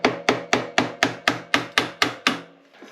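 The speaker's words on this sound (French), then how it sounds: "Je desserre le contre-écrou." A motorcycle suspension lock nut on an SMX 250 is knocked loose with about ten sharp, evenly spaced metallic hammer strikes, close and loud, with ringing tails between blows and no talking.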